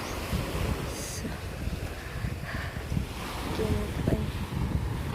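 Strong wind buffets the microphone on a cliff top above the sea in Bayawan City, with a steady rushing roar of waves beneath, while a person talks throughout.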